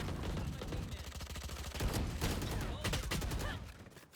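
Sustained bursts of automatic gunfire in the video game Valorant, shots piercing through a wall, dense and continuous with rapid repeated cracks over a busy game mix.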